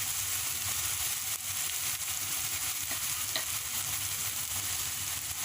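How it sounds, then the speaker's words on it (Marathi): Brinjal with extra green chillies and salt sizzles as it is sautéed for khara vanga, a loud steady frying crackle with occasional faint stirring clicks, close and continuous without speech. "थोडं परतून घेऊ।"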